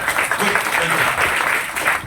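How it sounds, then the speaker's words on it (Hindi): An audience at a youth conference claps steadily throughout, a dense continuous patter of hands filling the hall with no break. "सब एक आनंद के लिए ताली बजाए"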